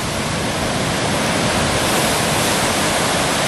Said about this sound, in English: you got some big waves coming in